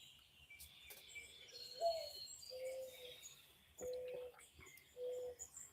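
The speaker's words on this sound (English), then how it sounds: "we've already got birds flying in front of the camera." Birds call outdoors, a few short tonal chirps and coos repeating at intervals, faint and somewhat distant over a low hiss of open-air background.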